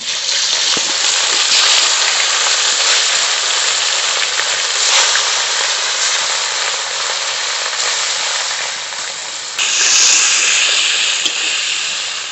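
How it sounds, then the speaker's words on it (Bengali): Fish sizzles hard in a wok of hot oil, a loud, broad, unbroken hiss that holds steady throughout with a brief dip and surge near the end. "মাছগুলো খুব ভালো করে ভেজে নেব"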